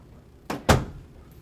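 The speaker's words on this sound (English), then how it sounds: "Just realized my fridge is making a noise." A refrigerator door closing indoors: two quick thuds, the second louder, with no ticking evident.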